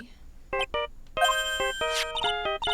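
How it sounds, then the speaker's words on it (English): A phone ringtone from the video game Phoenix Wright: Ace Attorney – Justice for All plays a short, bright electronic melody of distinct beeping notes. "I don't like the sound of this ringtone right now."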